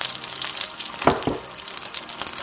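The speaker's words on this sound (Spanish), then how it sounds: "Y adentro del pimentito le vamos a echar" An egg sizzles gently inside a bell pepper ring in a pan over lowered heat, a soft crackling fry with a couple of brief louder spits near the middle.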